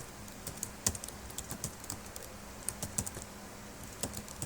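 Soft, quick keystrokes on a computer keyboard while entering multiple-choice answer options in MS Word, an irregular patter of close, faint clicks with no voices.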